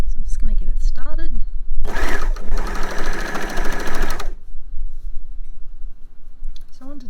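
A sewing machine stitches a beanie in one steady burst of whirring for about two and a half seconds, with someone talking before and after it.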